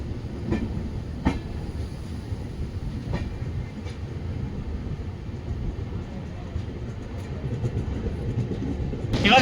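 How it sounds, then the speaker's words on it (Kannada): Passenger train on the Bengaluru to Bidar route pulling into Sedam railway station, heard from on board: a continuous low rumble with faint rhythmic wheel clicks and a rise in noise at the end. "ಇವಾಗ ನಮ್ಮ ಟ್ರೈನ್ ಸೇಡಂ ರೈಲ್ವೆ ಸ್ಟೇಷನ್ಗೆ ಎಂಟ್ರ್ ಆಗ್ತಿದೆ"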